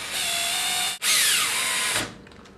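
A power drill drives tiny screws into a deadbolt latch in two close, whining bursts with a short pause between them, then winds down.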